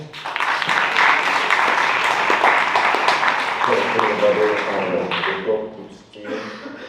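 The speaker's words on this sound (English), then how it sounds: "So an applause to Prague Film School, Jacob Dubsky and Tarek Hajar." Audience applause at an international symposium, a sustained, fairly close burst of clapping that thins out toward the end, with some voices under it.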